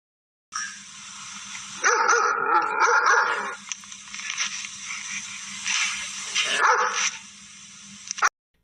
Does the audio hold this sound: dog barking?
yes